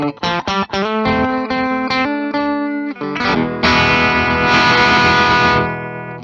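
A 2022 Gibson 1954 Les Paul Standard electric guitar rings out with driven, effects-laden chords: a few choppy strums, then a sustained, thick, saturated wash of sound, loud and up close, with no voices.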